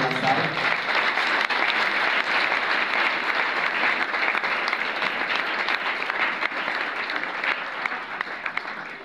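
Audience in a hall applauding and cheering for deputies and senators at a political launch event in DR Congo, dense continuous clapping filling the room for the whole stretch.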